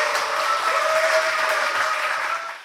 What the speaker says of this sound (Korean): 귀하신 목사님 우리 박수로 맞이하도록 하겠습니다